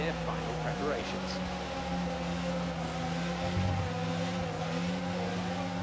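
Formula 1 cars idle and rev on the starting grid in the F1 22 racing game, a steady layered engine drone with shifting pitch, joined by a low rumble near the end.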